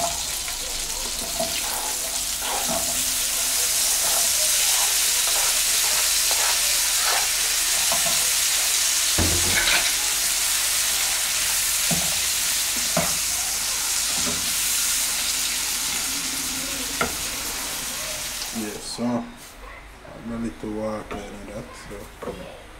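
Cut seasoning frying in a pot for a fish cook-up, giving a steady, dense sizzle throughout, with a few knocks and clatters and speech over it, and a drop to quieter clinks near the end.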